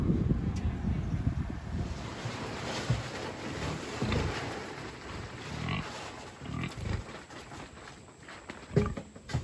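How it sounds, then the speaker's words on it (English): Gusty wind buffets the microphone outdoors on a pig farm, a continuous low rumbling roar that swells and eases in irregular bursts, with no talking. "So the wind's picking up and we just got back."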